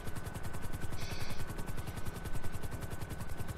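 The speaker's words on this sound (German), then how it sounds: "Hubschrauber, Einsatz!" Helicopter in the video game GTA V Online, with a loud, steady rapid chopping of rotor blades close by that continues throughout at an even rhythm.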